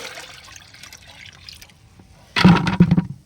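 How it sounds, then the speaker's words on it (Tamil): Water is poured from nearby into a fertilizer mix to dilute three litres up to ten for summer climbing vegetable plants, a quiet trickle building into a sudden loud splashing pour near the end. "தண்ணி எடுத்து ஊற்றிக்கலாம்."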